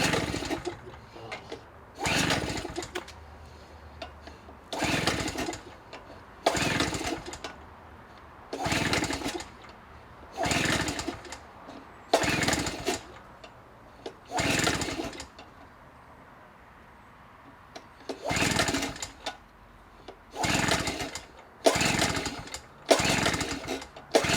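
A cheap Amazon portable generator's small engine roars in a dozen or so separate loud bursts about two seconds apart, each cutting back to a quieter lull, close by and without talk.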